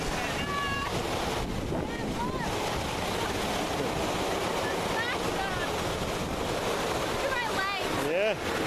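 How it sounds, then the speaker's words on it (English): Steady wind blusters across the microphone outdoors in Nebraska, a loud, continuous rush with brief faint chirps layered over it. "When the wind shifts, you really get it."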